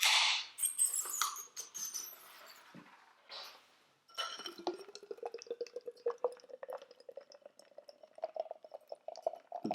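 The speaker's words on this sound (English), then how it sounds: "The best way to get Guinness out of one of these draft cans is to get it out as quickly as possible, all in one go" Guinness poured quickly from a draught can into a glass, with a hiss as the can opens, then a steady gurgling glug of liquid filling the glass, close and fairly quiet.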